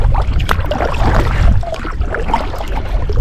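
A small boat moving across a shallow lake in Corning, Iowa, steady broadband water wash and wind rush throughout, close and fairly loud with no pauses.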